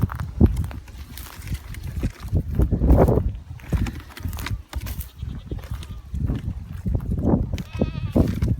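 Goats bleat now and then amid close shuffling, hoof clatter and rustling, with a person murmuring faintly in the background.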